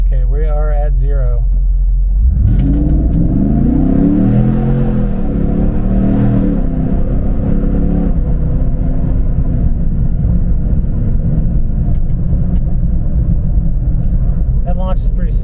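A V8-powered car launches hard from a standstill and accelerates, its engine rising in a loud, close roar that surges and shifts, with people talking over it.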